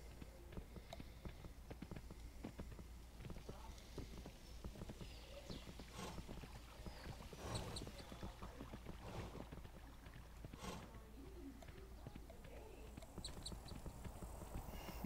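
A horse walks in the video game Kingdom New Lands, its hooves clip-clopping in a steady rhythm over quiet ambient game sound.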